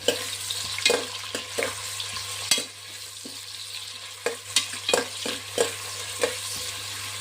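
Long-sliced onions for a mushroom biryani fry in oil toward golden brown, a steady sizzle punctuated by repeated spatula scrapes and clacks over a low background hum, with no speech.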